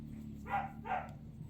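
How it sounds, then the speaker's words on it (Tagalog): A dog barks outside twice, two short, moderately distant woofs about half a second apart over a low steady hum. "Ang ingay sa aso sa labas mga palangga."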